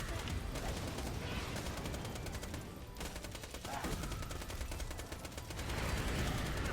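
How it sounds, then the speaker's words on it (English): Hyperion SMG fire in a video game sounds as rapid, continuous bursts of automatic shots, loud and dense, with brief pauses between bursts. "it does just kind of feel like a good Hyperion SMG overall."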